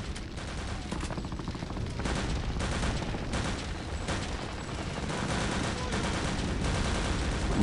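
Rapid, sustained submachine gun fire in Wolfenstein set at Stalingrad, loud and close, with rattling bursts that run nearly unbroken over a low rumble.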